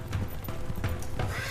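Hooves of wild mustangs clip-clop on hard ground in a quick, uneven run of three or four close, fairly loud thuds, with no voices.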